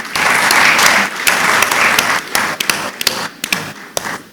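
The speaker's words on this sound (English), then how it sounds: "Please, another round of applause for Prof." Conference audience at an annual law conference applauding a speaker, a loud burst of clapping that thins out into scattered individual claps and taps toward the end.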